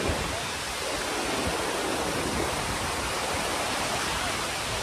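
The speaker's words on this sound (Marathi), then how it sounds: "माझ्या मागं आबोली वॉटरफॉल आहे." Amboli waterfall in the monsoon, swollen with rain, gives a steady, loud, broadband rush of falling water that holds constant throughout with no voices.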